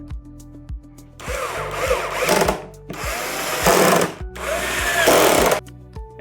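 A power drill whirs in three bursts, each winding up and settling as it drives screws into a metal photo booth mount, with short pauses and light clicks between.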